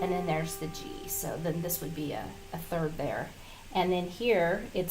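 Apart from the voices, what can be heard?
No everyday noise stands out behind the speech.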